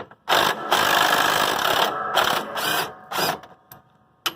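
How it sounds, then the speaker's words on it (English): Impact wrench loosening bolts on a John Deere L100 riding mower, loud close rattling bursts of about two seconds followed by shorter blips as the bolts come free. "See if the impact will take them off."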